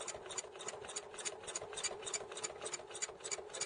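A sewing machine runs steadily for free motion quilting, its needle beating a fast, even rhythmic tick over a constant motor whir, close and continuous with no talking.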